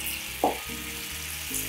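Garlic and white wine sizzle in a pan with king mushrooms for a butter reduction, a steady close hiss with a brief louder burst near the start and no talking.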